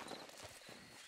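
Horse hooves clip-clopping in the Red Dead Redemption II Online game, a quick steady run of soft hoofbeats at close range, brief and continuous with no talk over them.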